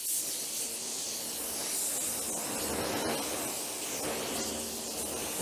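A spray gun using 3300 GTO from Segola at about 26 PSI with a 1.3 tip lays waterborne basecoat onto a bumper cover, producing a soft, continuous airy hiss throughout.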